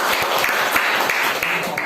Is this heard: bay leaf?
no